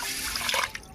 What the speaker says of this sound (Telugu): గలాసున్నర నీళ్ళు పోస్తున్నానండి